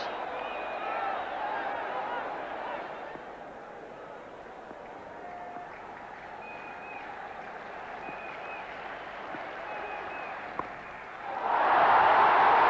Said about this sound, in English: There's a big crowd here loving every moment of this.